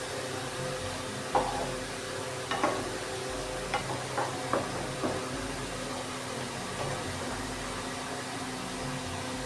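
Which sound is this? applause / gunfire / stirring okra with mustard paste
stirring okra with mustard paste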